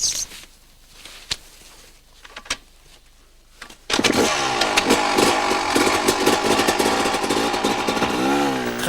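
Yamaha enduro motorcycle revving hard and accelerating uphill on rough terrain, its loud engine surging in after a few seconds of quiet with rising and falling throttle bursts close by.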